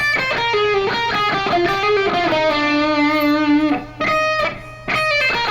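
Distorted electric guitar playing a solo lick at a slower pace, with individual notes and a sustained bend clearly separated, loud and close, alone without voices, ending in a few short choppy phrases.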